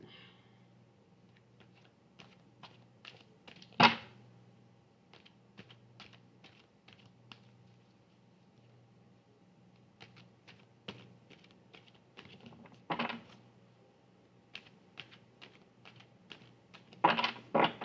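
Tarot cards handled and shuffled: sparse light clicks and taps in quick runs, broken by a few louder slapping riffles, close and quiet against a near-silent room.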